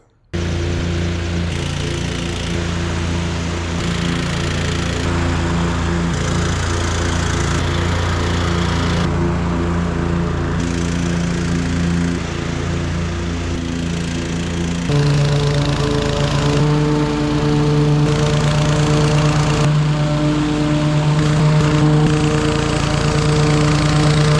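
Lawn mower engine running steadily close by while mowing a yard, a loud continuous droning hum whose pitch shifts slightly partway through, with no voices.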